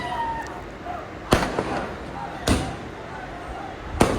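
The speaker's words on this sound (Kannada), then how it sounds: "ಪಟಾಕಿ ಅದೆಲ್ಲ ಹೊಡೆಯತ್ತಿದ್ರ" Firecrackers bursting at a birthday celebration crowd, three sharp loud bangs spaced about a second apart over a busy background of murmuring voices.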